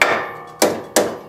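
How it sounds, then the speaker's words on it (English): Three sharp hammer blows bend the metal back during a Toyota 4Runner overland suspension install, loud close clanks with short ringing decay, spaced irregularly and without talk. "hit it with a hammer a few times just to bend it back around"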